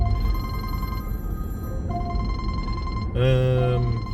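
A telephone bell rings in a garage, several repeating tonal bursts sounding clearly over steady background noise, with a louder, harmonically rich ring near the end.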